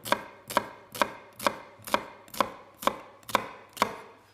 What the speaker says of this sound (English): So you use the tip of the knife and you pull back like that. And you don't cut all the way through the onion.